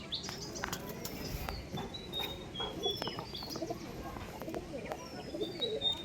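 Pigeons coo softly in a rural village setting, low murmuring calls mixed with occasional faint chirps of other birds against a quiet outdoor background.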